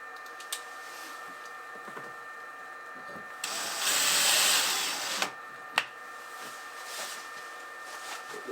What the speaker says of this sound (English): Put those screws in.